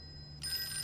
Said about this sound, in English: How many times did the phone ring?